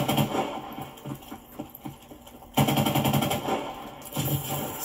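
Call of Duty Advanced Warfare gunfire rattles in fast machine-gun bursts, loud and close, with a denser volley starting midway and continuing to the end.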